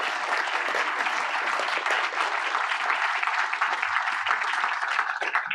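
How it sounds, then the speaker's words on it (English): Sustained applause from the audience at a council meeting, dense steady clapping that fills the room without pause for several seconds, fairly close and even in loudness. "Could I ask you to give them a round of applause?"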